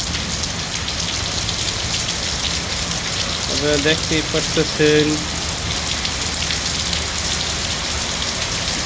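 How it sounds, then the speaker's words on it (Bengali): Heavy rain pours onto the streets of Dhaka as a dense, steady hiss, while a voice speaks briefly partway through. "বৃষ্টি কি পরিমাণে পড়তেছে।"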